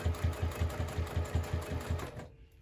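Close and alone, a sewing machine sews a straight line on a Divina handbag, its needle thumping in an even, rapid rhythm before it stops abruptly near the end.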